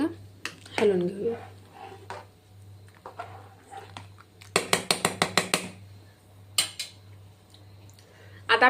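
Washed rice and dal being stirred in a pressure cooker. A burst of quick metallic clinks and scrapes comes about midway, with scattered knocks around it.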